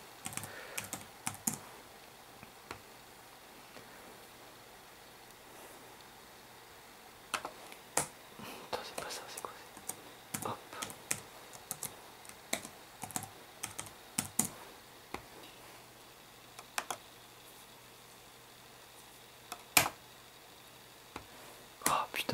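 A password typed on a computer keyboard: faint, irregular bursts of keystrokes with pauses between runs of clicks, in a quiet room with soft murmured speech.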